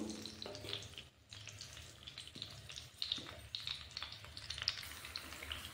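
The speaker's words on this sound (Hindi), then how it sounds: "अब हम तेल में आंवले को थोड़ी देर भून लेंगे ताकि आंवले में जो भी नमी होगी वो" Amla (Indian gooseberries) fry in hot oil as pickle is being prepared, giving a quiet but continuous crackling sizzle with brief bright pops and a short dip in the middle, heard without speech.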